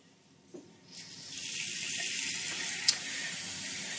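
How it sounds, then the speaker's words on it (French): Water from a tap pours into a salad bowl for potatoes, a steady hissing stream rising after a couple of light knocks and continuing close by without speech. "je vais juste mettre un peu d'eau dans un saladier"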